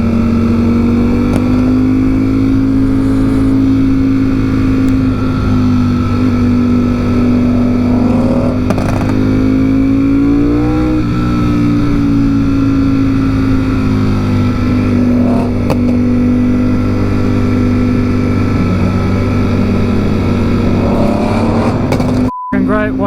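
Sports car engines, including a McLaren 720S and Porsche GT3 RS, drone and rev continuously, with a passing car's pitch sweeping up and down midway; a dense, loud road-traffic roar throughout.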